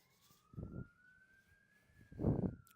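A steady, high siren wail from a distant fire engine, holding a near-constant pitch while low thumping noises come and go underneath.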